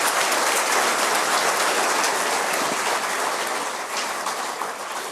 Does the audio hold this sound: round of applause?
yes